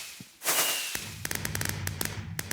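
Video-game fireworks fired from a bank of wired launchers: a rising whoosh bursts open, then a rapid string of sharp crackling pops and bangs spreads out and continues, fairly close and loud.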